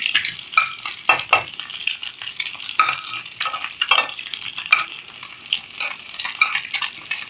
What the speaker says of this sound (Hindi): अब हम इसे थोड़ा सा भून लेंगे ताकि ये कच्चा ना रहे हमारा अंडा